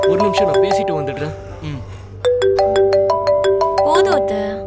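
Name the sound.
mobile phone ringing with an incoming call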